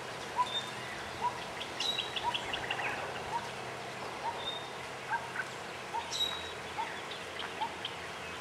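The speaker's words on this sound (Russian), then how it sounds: "Этот бюльбюль, который хорошо поет." Yellow-vented bulbul singing among other tropical birds, giving repeated short bright whistled phrases at a steady pace over a dense background chorus of other birds, moderately near and clear.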